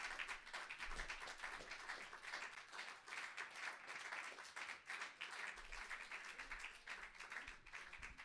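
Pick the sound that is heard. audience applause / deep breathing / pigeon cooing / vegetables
audience applause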